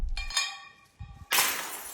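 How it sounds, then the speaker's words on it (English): Glass candy dish full of Werther's Originals dropped down an elevator shaft, a ringing glassy clink followed by a short pause and a sudden bright crash and scatter. "A glass candy dish full of Werther's Originals."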